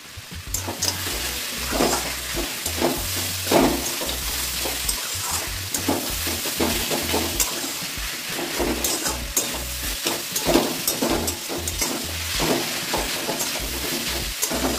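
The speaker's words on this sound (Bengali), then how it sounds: "মূলোটা আমার কষানো হয়ে গেছে বন্ধুরা।" Radish curry with fried lentil badi is stir-fried in a pan, giving a steady loud sizzle throughout with repeated scraping strokes of a spatula, and no talking.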